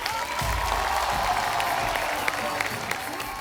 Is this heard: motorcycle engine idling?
no